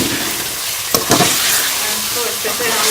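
Potatoes fry with spices and korma masala in a karahi for an aloo curry, giving a steady, close sizzle with a couple of brief stirring scrapes near the middle and no talking.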